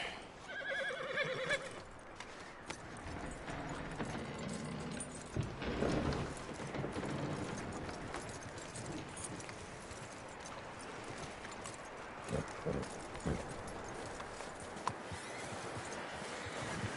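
A horse in the Red Dead Redemption 2 video game whinnies while its hooves clip-clop steadily, set in a dense, continuous game soundscape with no voices.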